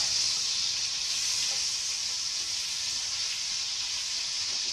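Chinese red peppers fry in hot oil, giving a steady, close, bright sizzle and hiss that holds evenly from start to finish with no talking.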